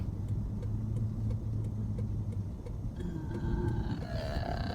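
A car driving in heavy road traffic, heard from inside as a steady low engine and road rumble with faint ticking and a rising tone near the end, continuous and moderately quiet.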